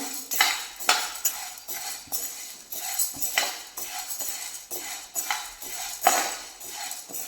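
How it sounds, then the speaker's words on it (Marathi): Chana dal dry-roasting over a low flame while a metal spoon stirs it in a pan, giving repeated clinking scrapes and rattling grains in an uneven rhythm, close and alone. "इथे हरभरा डाळ सुरुवातीला आपल्याला लो फ्लेमला भाजून घ्यायची आहे"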